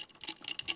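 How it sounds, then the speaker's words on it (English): Ice cubes clink and rattle in a glass of water, several quick, bright taps in an irregular rhythm, close and fairly quiet. "hear that ice, which is frozen water."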